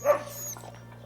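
A sled dog gives a single sharp close bark that trails off into a brief softer whine, followed by quiet background.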